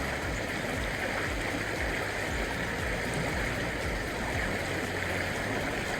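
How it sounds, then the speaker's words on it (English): The Weber River rushes past in a steady, continuous wash of flowing water, full and close, with gentle gurgling and no voices. "I just want you to listen to the river going by."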